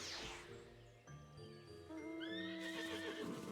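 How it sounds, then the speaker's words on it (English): A horse neighs in Final Fantasy XIV, a clear whinny over game music with hoof clip-clop and faint jingling, fairly quiet overall. "I heard a horse."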